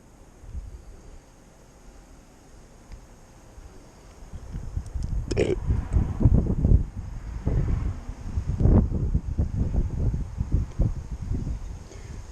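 Wind buffets a drone's microphone during a flight around the neighbourhood, gusty rumbling that builds from quiet to strong, with brief muffled voices mixed in.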